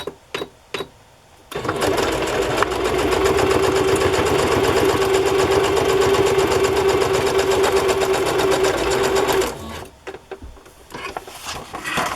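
A sewing machine stitches a long K & Company sticker onto a handmade journal page as a decoration, running steadily and loud for about eight seconds, with short starts and stops before and after.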